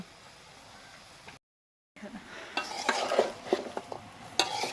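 Ginger-garlic paste is stirred in a pot for nihari, soft scraping and frying crackle after a brief gap of silence, with sharper clinks of a spoon against metal growing louder toward the end.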